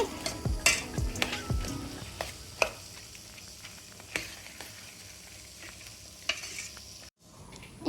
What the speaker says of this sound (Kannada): ಒಮ್ಮೆ ಸಟ್ಟುಗದಿಂದ ಕೈಯಾಡಿಸಿಕೊಳ್ಳಿ